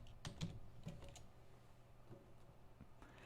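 Keys tapped in a quick burst of clicks on a computer keyboard while entering a domain lookup, a close, fairly quiet flurry early on that thins into sparse single keystrokes.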